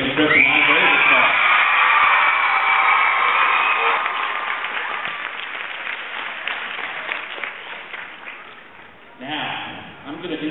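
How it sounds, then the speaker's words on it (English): Loud applause fills a middle school promotion ceremony for eighth graders, a dense crowd clapping at full strength that gradually thins and fades, then a short renewed burst near the end. "Let's give a round of applause for the 8th graders"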